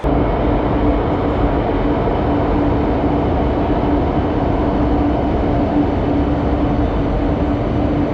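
A subway train runs through a Chinese city with a continuous loud rumble and a steady hum, broadband and unbroken for the whole stretch, with no voices.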